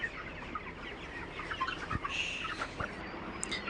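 Chickens clucking and calling at a poultry farm, several birds close by with intermittent clucks and a few sharper squawks over a busy background, no speech.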